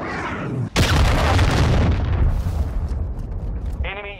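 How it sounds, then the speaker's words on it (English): A cruise missile strike in Call of Duty: Modern Warfare II lands as one sudden, heavy boom, then a long roaring rumble that slowly fades, with a brief voice at the very end. "Hostile cruise missile launched."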